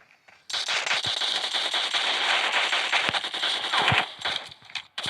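Video game gunfire, rapid bursts of automatic shots rattling loudly and continuously after a brief quiet start, with sharper individual cracks punctuating the stream.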